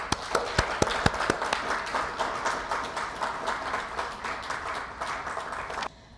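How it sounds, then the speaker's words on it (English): A meeting audience applauds for about six seconds, starting with a few loud close claps that merge into steady clapping from many people before stopping abruptly. "why don't we give him another big round of applause?"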